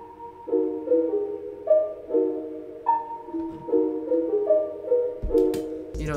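A creature synth one-shot from the Bass One and Pilgrim One Shot Kit plays a melody of short, distinct tonal notes with a soft airy tail, close and clear, ending on a brief burst of noise.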